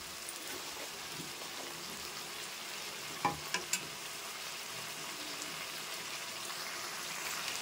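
Food frying in a pan with salt and turmeric added, stirred by hand: a steady low sizzle throughout, broken by a few sharp utensil knocks near the middle.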